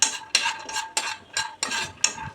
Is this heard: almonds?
yes